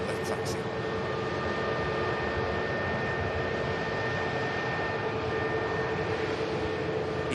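An Airbus airliner taxis at Manchester Airport with a steady, loud engine whine and rumble, and a faint voice is heard at times.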